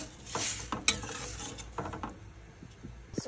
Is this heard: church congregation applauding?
no